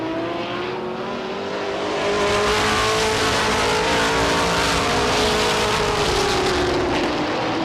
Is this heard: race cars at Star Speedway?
yes